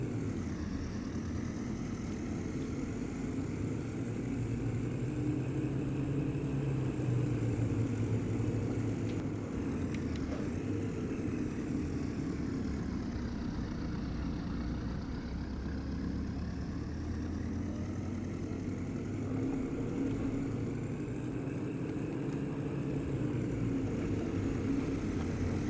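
Wacky car's engine droning steadily around Brands Hatch Indy circuit in the racing game Assetto Corsa, a continuous mid-level hum with slowly rising and falling pitch, no voices.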